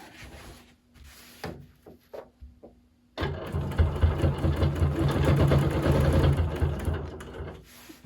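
A sewing machine stitching during free motion quilting of a pillow: a few isolated clicks and taps first, then a sudden loud, steady mechanical whir and rapid stitching rhythm running several seconds before tapering off.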